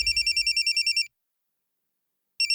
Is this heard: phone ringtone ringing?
yes